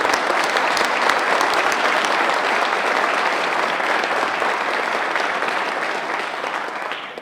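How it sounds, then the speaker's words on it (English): An audience at a corporate announcement applauds the Nucor team: dense, sustained clapping from a large crowd that stays loud and tapers slightly at the end. "let's have a round of applause for the entire Nucor team"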